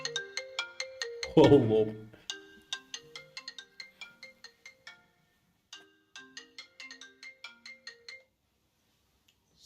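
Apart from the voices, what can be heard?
phone ringtone during a call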